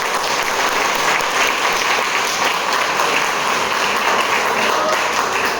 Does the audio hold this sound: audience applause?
yes